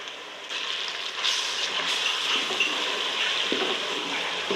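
Garlic-ginger paste frying in a pan over browned onions, a close, continuous hiss of sizzling oil that swells slightly after the first second and holds steady.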